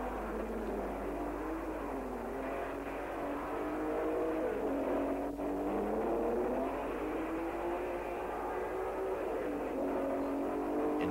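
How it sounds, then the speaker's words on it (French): Early 1960s Cooper Formula One race cars, rear-engined, racing out of Woodcote corner, heard as a steady rising and falling engine drone over a low constant hum, moderately distant and continuous, with no voices. "Out of Woodcote at the end of the first lap came Brabham and McLaren, both in Yeoman Credit Coopers, and Moss in the Rob Walker Cooper."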